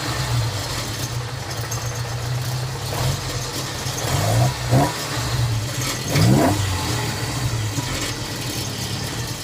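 A 1959 Alfa Romeo Giulietta SV with burned-through exhaust silencers idles loudly and close, then revs up twice in quick rising surges before settling back to a raw, rumbling idle.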